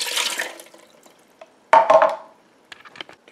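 Water is poured into a Ninja Speedi cooker, two short splashing pours into the pot separated by a quiet pause, followed by small clinks and handling sounds.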